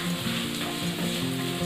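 Peas, carrots and cauliflower cooking in a pan for masala Maggi, a continuous close sizzle and fry with faint stirring scrapes, no talk.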